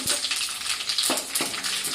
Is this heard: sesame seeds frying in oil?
yes